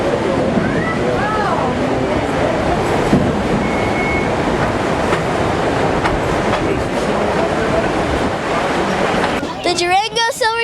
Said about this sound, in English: The trip is 45 miles and the train travels between 10 and 18 miles per hour.